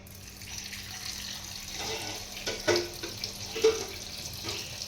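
Tap water runs into a vessel of salted water used to wash a goat head, a soft steady stream with a few louder splashes and clunks of the container, no talking.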